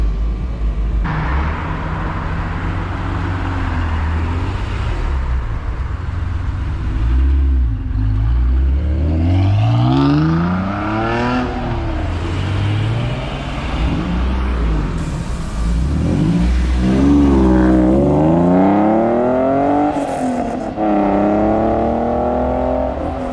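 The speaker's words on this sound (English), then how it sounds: "Oh, looks like the R34 is leaving as well." A Nissan R34 GTR pulls away from a car meet in Hayward, its engine loud and close, revving up and down in several rising and falling sweeps over a deep rumble.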